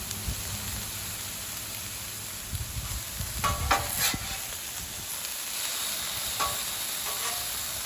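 A ribeye steak browns in a pan over low heat for a quesadilla, giving a steady close sizzle with a few scraping stirring sounds partway through.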